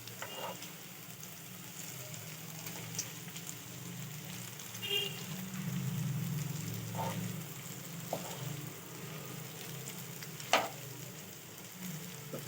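Paneer tawa fry coated in rice flour sizzles softly in oil on a griddle, a faint steady crackle with a few sharp pops and clinks of utensils.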